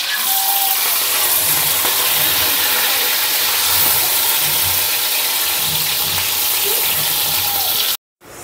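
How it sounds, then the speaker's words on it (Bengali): Pulao rice frying with spices in a hot pan, a steady loud sizzling hiss throughout with faint low clatter beneath, cutting off abruptly near the end. "এখন মশলা দিয়ে পোলাও চালটা ভেজে নেব"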